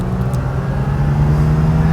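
A 1989 Ford LTD Crown Victoria with its 5.0 V8 accelerates hard, a loud, steady low engine drone heard from inside the car with a rising tone and no talking.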